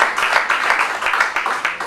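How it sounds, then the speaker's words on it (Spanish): A church congregation gives a strong round of applause, a steady wash of many hands clapping at close range for about two seconds. "Démosle un fuerte aplauso."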